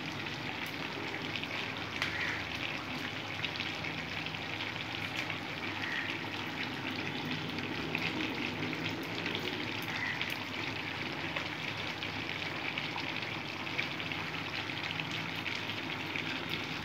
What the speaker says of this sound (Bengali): ঘি দিয়ে দিলাম বন্ধুরা, এটা অপশনাল।